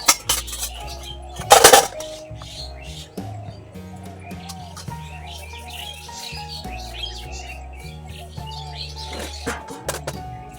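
Metal plates and dishes clank and scrape while being washed at a village pond ghat, with a loud burst of clattering early on and lighter clinks after, as birds chirp nearby.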